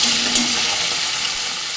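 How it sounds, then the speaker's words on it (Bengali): Chopped tomatoes and whole cumin seeds fry in hot oil, giving a brief, steady, close sizzle with no other sounds. "টমেটো একটু টমেটোটা একটু ভালো করে ভাজা ভাজা করে নেবো"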